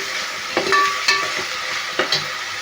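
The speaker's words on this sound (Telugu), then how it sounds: "అల్లం వెల్లుల్లి పేస్ట్ వేసాను. దీన్ని కొంచెం వేగనిచ్చేసి పచ్చివాసన పోయేంత వరకు అల్లం వెల్లుల్లి పేస్ట్ వేయాలి." Ginger garlic paste fries in hot oil for a mutton liver curry, giving a close, steady sizzle with a few light stirring knocks.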